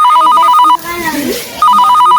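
A telephone rings loudly in steady bursts of a bright electronic bell, pausing briefly in the middle before ringing again, with a voice heard faintly during the gap.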